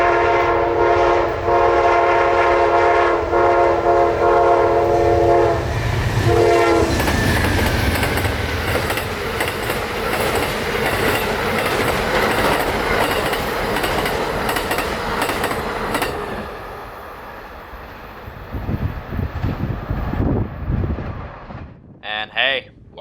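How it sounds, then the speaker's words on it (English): Amtrak 91 passenger train in Central Florida sounds a long loud horn, then roars past with rolling wheel clatter that fades, with a voice at the end. "Amtrak 91 returning from Tampa with Aaron Carter at the helm"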